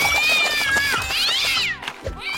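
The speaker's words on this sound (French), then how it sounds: "Le système Minumatic, entre autres fonctions, lave et shampooine votre chat," A cartoon cat yowls and meows in long, loud, wavering cries while a Minumatic machine washes and shampoos it, with sliding pitch and a brief break near the end.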